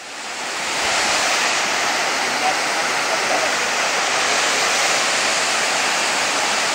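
Dat Fa waterfall in Surat Thani pours steadily, a loud broadband rush of falling water that swells in over the first second and then holds constant, with no voices.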